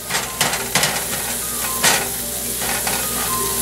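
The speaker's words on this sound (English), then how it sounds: "you want to keep tending this, stirring it, making sure it's getting moved around right" Garlic-laced food for escargots fries in a pan under steady stirring, a continuous loud sizzle broken by several scraping, clinking strokes of the utensil against the pan.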